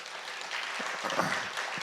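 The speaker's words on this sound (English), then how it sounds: "let's give Bill a round of applause" An audience gives a round of applause at the Avalon Theater after a talk on the local economy, a brief, fairly soft spread of clapping from the room.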